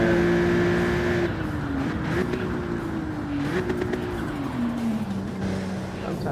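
A race car in a racing video game drones with a steady engine tone that drops in pitch through downshifts under hard braking, loud and continuous with faint speech beneath.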